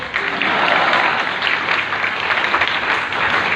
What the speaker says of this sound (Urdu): ان کے لیے کلیپنگ ہو جائے